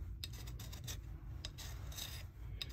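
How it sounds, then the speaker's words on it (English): A hand file rasps across a battery lug to flatten it, a close, steady back-and-forth scraping in quick repeated strokes with no talk. "Just file away."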